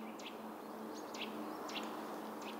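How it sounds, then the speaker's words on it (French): Forest birds in the Retz woods near Villers-Cotterêts, with great tit, blue tit and two blackbirds giving alarm calls: short high chirps at intervals, moderately distant, over a steady hiss of ambient background. "Il y avait de la mésange charbonnière, une mésange bleue, deux merles noirs, un de chaque côté avec des cris d'inquiétude"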